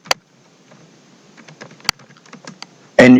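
Java code being typed on a computer keyboard: scattered light key clicks at an irregular pace, close up, followed by a louder burst of quick keystrokes at the end.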